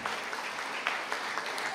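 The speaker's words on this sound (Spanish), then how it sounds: "Fuertes aplausos para ellos, se lo merecen." Applause at a school awards ceremony, a dense, even wash of many people clapping from a seated audience, moderately loud and without talk.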